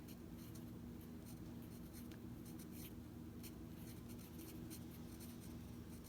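Pen writing on paper, faint scratchy strokes in short irregular bursts over a steady background hum, close but quiet.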